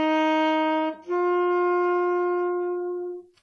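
A saxophone slurs from C up to D with the octave key pressed, one breath: a steady held note, a brief dip, then a clear sustained higher tone fading out, played solo.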